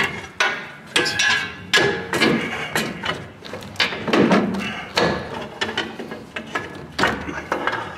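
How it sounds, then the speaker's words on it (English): Pry bar levering a Ford F-series front strut and spring assembly out of the suspension, making repeated metallic clanks, knocks and scrapes up close, with brief talk mixed in. "I stuck that pry bar underneath there"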